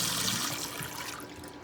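Water is poured by the cup into a crock pot for chicken, a soft continuous splashing trickle close by that thins out toward the end, fairly quiet.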